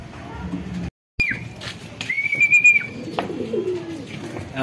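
Racing pigeons arriving at a loft after a 274 km derby race, with soft cooing and wing flutters close by, a brief silent gap, then a sustained whistle-like tone and background chatter.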